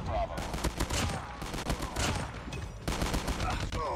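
Rapid bursts from a burst shotgun in Call of Duty Mobile crack out in quick clusters, loud and close, with several volleys separated by brief pauses.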